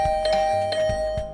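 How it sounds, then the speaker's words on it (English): A doorbell in The Hundred Line video game rings in a sudden rapid barrage, several quick ding tones stacked over a sustained tone, loud and close with no talking. "The sudden barrage of doorbell rings took me by surprise"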